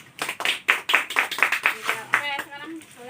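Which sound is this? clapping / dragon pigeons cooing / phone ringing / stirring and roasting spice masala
clapping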